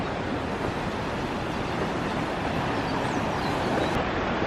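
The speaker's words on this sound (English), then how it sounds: "The water's gonna be so fast." Fast-flowing river water rushing through Vintgar Gorge in Slovenia, a dense, constant roar that fills the whole stretch, close and loud with no voices.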